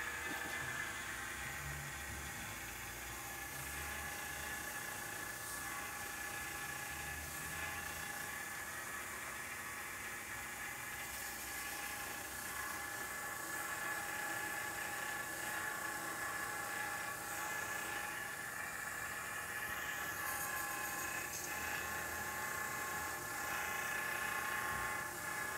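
An ABS diesel camshaft polisher works on a long locomotive camshaft, producing a continuous, even mechanical whir and hum with a fine high grinding hiss that stays steady throughout, moderately quiet and without talk.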